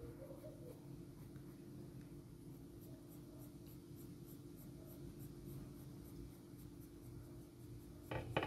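Graphite pencil drawing dark short fur on paper, a soft continuous scratchy rubbing of strokes, faint and steady under low background hum, slightly louder at the very end.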